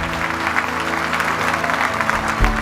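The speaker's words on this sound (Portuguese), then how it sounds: "levante a sua mão e aplauda bem forte ao Rei dos Seis, ao Senhor dos Senhores, em nome de Jesus." A church congregation at a worship service claps loudly, a dense and steady wash of applause that carries on throughout with no break.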